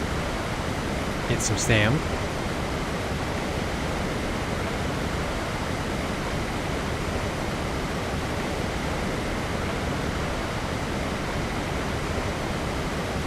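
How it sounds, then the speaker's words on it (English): A waterfall in the video game ARK: Survival Ascended rushes in a steady, dense roar that fills the whole scene, with a brief spoken remark near the start. "Listen to the sound of the waterfall."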